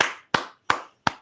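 A small audience after a physics class presentation on symmetries claps four times, each clap loud, separate and ringing briefly, with no talking.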